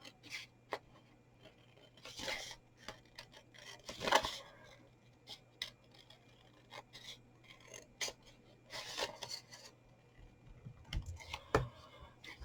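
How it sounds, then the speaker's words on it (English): Scattered crisp snips and scraping rasps as scissors trim excess wrapping paper from a fringed party gift box, with irregular bursts and pauses over a low steady hum. "There's a bit of an overspill on mine for some reason, so I'm just going to trim it."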